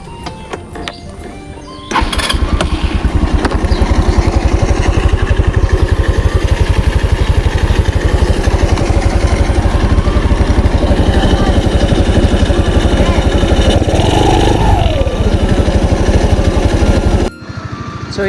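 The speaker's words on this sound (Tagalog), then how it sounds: "Start natin yung motor mga kuys." A motorcycle engine catches after a brief crank and settles into a steady, close idle that runs loud and even before cutting off at the end, just after a belt, oil and gear oil change.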